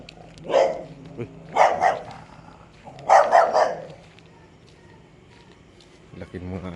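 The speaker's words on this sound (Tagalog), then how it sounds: "Laki ng mga aso oh" Big dogs bark at night along a neighbourhood street in three separate clusters of deep, loud barks spaced a second or so apart, with quiet between them and a little talk or movement near the end.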